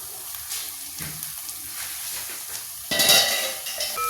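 Onions sautéing with turmeric powder in a pan for biryani, a soft steady sizzle with scraping stirs, then a louder burst of frying hiss near the end as the pan is stirred.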